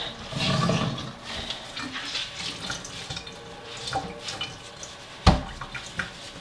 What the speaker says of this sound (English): I'm gonna drain and squeeze.